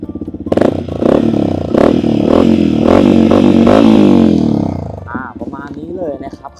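A 2020 Yamaha WR 155 R motorcycle in like-new condition, its single-cylinder engine starting up and running with sharp revs and a throbbing idle, close and loud, with someone speaking briefly near the end.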